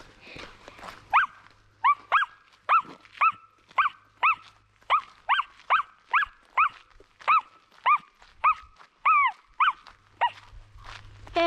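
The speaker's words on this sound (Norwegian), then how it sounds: "Høres det ut som en bikkje nå, da?" A dog barks repeatedly outdoors in a steady series of sharp, evenly spaced double barks, moderately close and clear, with no talking over them.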